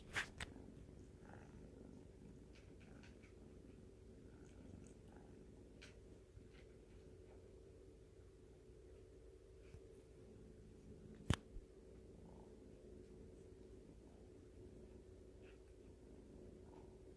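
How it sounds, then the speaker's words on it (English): Kitten purring quietly and steadily close to the microphone in a calm indoor room, a soft continuous rumble with a few faint clicks and one sharp tap partway through. "Let's see if I can get you guys to hear his purrs."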